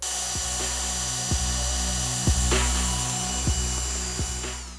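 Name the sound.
power drill drilling holes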